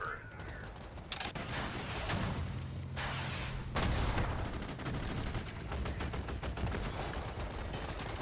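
Gunfire in the video game Infra: dense, crackling volleys of shots rattle on and off, loud and close, with a sharp burst partway through and steady shooting to the end.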